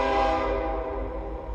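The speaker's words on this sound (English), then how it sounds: "Sorry, my daughter lives next to a train track." A train passes close by a railway track beside a house, a loud sustained horn-like tone over a heavy low rumble that slowly fades, with no one speaking.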